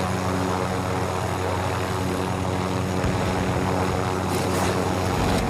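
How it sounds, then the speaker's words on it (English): Helicopter in the video game Call of Duty Warzone, a loud continuous rotor and engine drone with steady low throbbing, close and unbroken, with no voices over it. "Dude, I'm like on the helicopter."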